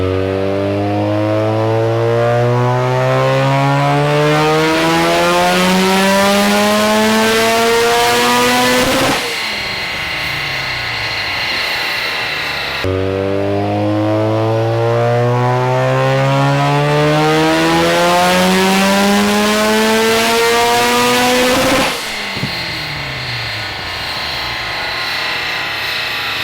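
Mazda RX7 rotary engine on a dyno, revving hard in two long sweeping pulls that rise steadily in pitch, each cut off sharply before settling to a lower idle-like drone; loud and close, with no talk.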